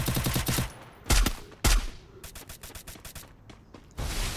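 Gunfire in the battle royale game Free Fire: loud, rapid strings of shots with a couple of heavier blasts, sounding close and continuous, with no talking.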